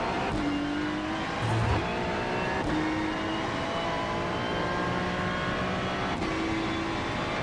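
A Ferrari 296 GT3 racing in iRacing at Sebring, its engine droning loudly and continuously, with sharp blips and pitch shifts on several downshifts as it brakes through corners.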